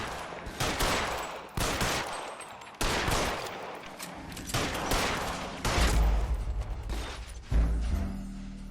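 Heavy gunfire from a PS5 video game pounds through repeated sustained volleys with brief gaps between them, loud and close, with deep booming impacts near the end.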